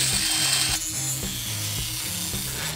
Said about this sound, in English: I can use this quick change sanding disc to smooth over the edges of the bines.